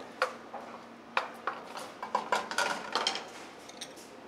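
Ingredients are dropped into a pan of melted butter, a run of light clinks, taps and clatters from utensils and the pan, scattered and close by, with no talking.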